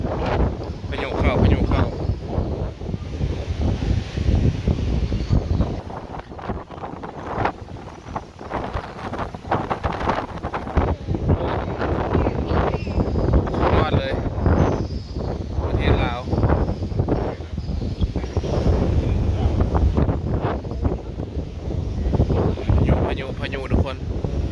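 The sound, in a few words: storm wind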